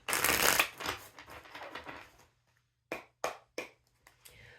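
Tarot cards laid out for a Celtic cross reading: a rustle of shuffled cards, then after a pause several separate soft slaps as cards land on a surface, close and quiet.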